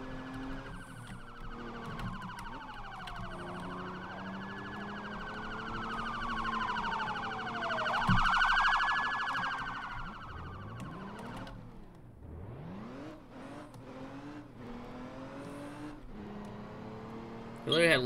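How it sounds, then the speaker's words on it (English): A police car siren in a driving video game wails in repeated rising and falling sweeps, loud and close, with engine and traffic noise beneath and a sudden burst at the end. "We literally had lights and sirens on for no reason"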